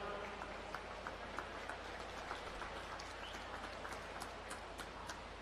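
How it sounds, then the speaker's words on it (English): Faint, distant crowd applause at the New Zealand short course swimming championships forms a soft, steady patter of many hands clapping in an echoey pool hall. "Give her a big round of applause, ladies and gentlemen"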